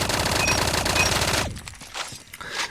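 A Fennec SMG fires in a rapid, unbroken burst in a video game, loud and close for about a second and a half, then cuts off and leaves faint clicks and handling noises.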